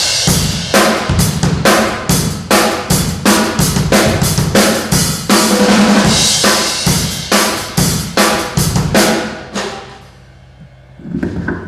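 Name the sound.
drums played with unsteady, wandering tempo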